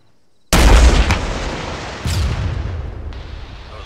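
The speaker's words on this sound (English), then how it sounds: "Rocket, rocket, rocket." Rocket launched in Arma 3 combat, a sudden loud blast followed by a rumbling tail, then a second heavier boom from the impact and a lingering roll of distant echo.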